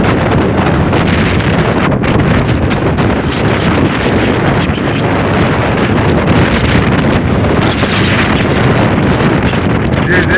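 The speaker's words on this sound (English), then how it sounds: "I'm sorry about the wind noise, everybody." Strong hurricane wind from Hurricane Helene in Fort Pierce buffets a microphone, making a constant loud, roaring rumble with gusty rustling and no letup for over ten seconds.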